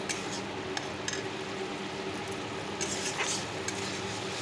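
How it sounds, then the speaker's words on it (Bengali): A fish curry cooks in a pan after fried fish, with spices stirred in; a constant soft sizzle runs beneath scattered light scraping and clinks of a spoon against the pan, with no talk. "মাছগুলো ভাজা হয়ে গেছে আর তরকারিটা বসিয়ে দিয়েছি মশলা দিয়ে করছি"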